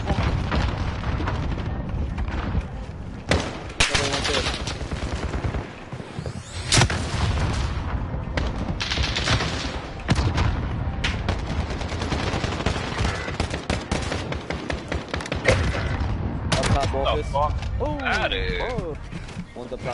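Gunfire in a Call of Duty Modern Warfare Search and Destroy match: dense bursts of shots, booms and mechanical clatter fill the whole stretch, with players talking over the action.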